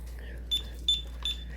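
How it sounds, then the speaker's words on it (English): An Elite tattoo stencil thermal printer gives short electronic beeps as it powers on, three brief, sharp chirps close by in a quiet room. "it does have kind of an obnoxious beep, but it only bleeps like at you twice just to let you know that it's turned on"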